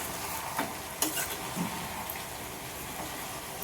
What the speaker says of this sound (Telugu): తిప్పేద్దాం.